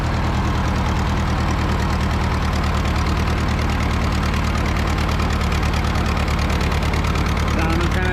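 A Super 44 tractor engine idles steadily and loudly up close, its low, even chugging running unbroken throughout with a slight miss in the firing rhythm.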